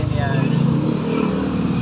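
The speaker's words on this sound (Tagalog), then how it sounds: "Yan yung motor natin." A motorcycle engine runs loud and close at a carburetor repair shop, with a throbbing idle and uneven revving.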